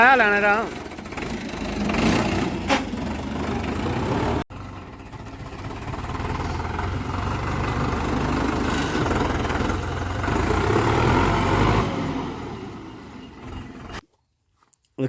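A tractor engine runs steadily with a low, continuous rumble, briefly cutting out once before resuming. People talk over it, and it stops near the end.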